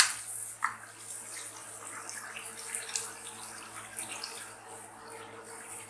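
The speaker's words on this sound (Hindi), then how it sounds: "आधा गिलास डालिया पानी का" Half a glass of water is poured into a pan of light egg kofta gravy, a soft splashing trickle with small bursts, close and fairly quiet against a low background hum.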